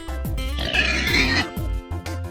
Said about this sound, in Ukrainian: бородавочник.